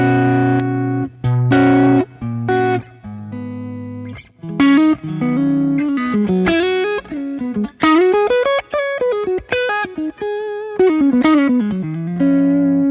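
FGN Japanese-built electric guitar with its pickup coil split, playing a run of chords and a single-note melodic line with effects and a slight drive, loud and alone with no talking.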